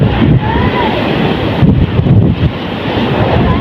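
Large ocean waves pounding the shore during Typhoon Basyang, a continuous loud roar of surf with heavy wind buffeting the microphone throughout.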